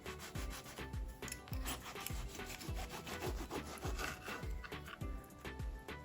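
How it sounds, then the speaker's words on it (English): Knife slicing through a bun for Bangalore street-food bun nippat masala, a steady run of rhythmic sawing strokes back and forth, close and soft, with no talking. "I'm going to make some slices"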